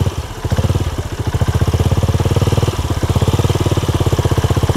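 A modified 2012 Honda Revo Absolute motorcycle idles close by with a steady, rapid, throbbing putter, loud and even, with a brief dip in rhythm partway through.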